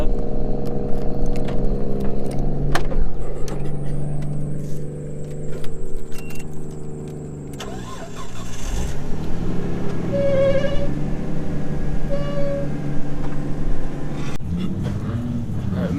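A loud drift car engine idling and revving nearby at a winter drift event, a steady rumble with jangling and clattering sounds over it.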